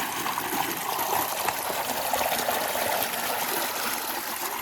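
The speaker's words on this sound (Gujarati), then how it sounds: "જો તમે ખાલી પાણી કેટલું આવે છે" Water pours steadily from the opened pipe of a bore well on a village farm, a continuous rushing stream with no breaks and no voices.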